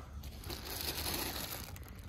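A plastic bag of dried sphagnum moss crinkles and crunches continuously as it is handled up close, a dense dry rustle filling the short stretch with no voice over it.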